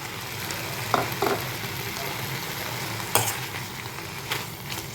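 Moringa leaves and sprouts sautéing in ghee in a pan give a steady soft sizzle, broken by a few short clinks and scrapes from stirring, with no talk.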